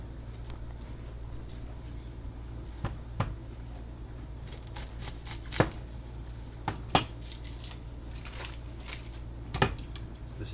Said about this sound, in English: Let's cut up an onion together.